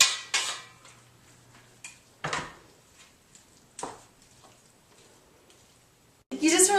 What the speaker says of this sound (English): You just really want to mix in these noodles and get all the sauce all over these noodles